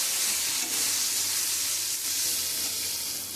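Okra frying in a pan over a medium gas flame, giving a steady, even sizzle and hiss that holds for several seconds with no talking.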